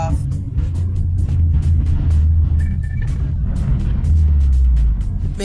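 A BMW driven on a race track, a loud close engine rumble with surging, revving swells and a steady low drone, with brief voices over it.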